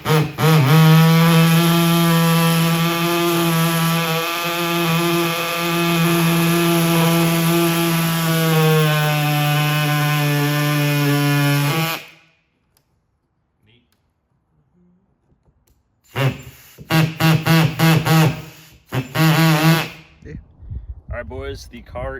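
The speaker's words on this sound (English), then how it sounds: "Just got to drill it into the firewall now." Power drill boring through the firewall of a Datsun 240Z with a turbo diesel 2JZ swap, a loud sustained whirring for about twelve seconds, then silence and a few shorter bursts of drilling.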